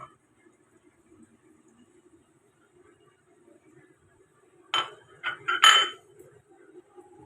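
A lid clinks and clatters onto a metal pot of young gourd curry in a home kitchen, a short cluster of sharp metallic knocks after a near-silent simmer.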